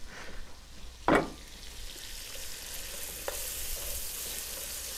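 Chopped onions and vegetables fry in a pan with a steady close sizzle, plus one sharp clatter early on; no voices.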